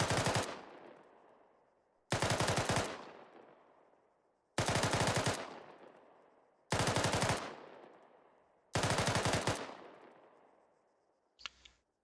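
Machine gun fires five short bursts at a rapid rate, each a quick string of rounds with an echoing tail, spaced about two seconds apart, loud and alone, with a faint metallic clink at the very end.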